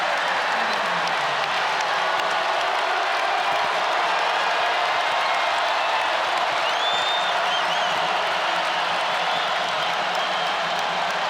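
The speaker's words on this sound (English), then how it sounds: "John Paul Jones Arena has come alive." Basketball crowd at John Paul Jones Arena in a Clemson vs. Virginia men's college game roaring after back-to-back threes, a loud sustained wall of cheering and applause with whistles rising through it.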